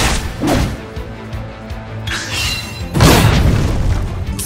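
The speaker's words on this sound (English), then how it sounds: "Axe attack!" A battle axe attack in Octopath Traveler II lands with two heavy booming impacts, the second louder and more crashing, each followed by a swooshing, ringing tail, close and punchy with no talk over them.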